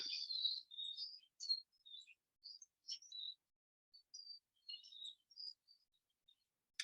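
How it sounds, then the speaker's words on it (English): High, thin bird chirps come in scattered short bursts against near silence, faint and somewhat distant, with irregular gaps between calls. "And we'll let the sound of the birds be part of that."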